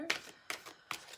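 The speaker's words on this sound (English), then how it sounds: "Then we'll shuffle this deck and have another card, please, for Cancer." Tarot deck being shuffled by hand during a card reading, three quick papery riffles spaced about half a second apart, close and soft with no talk.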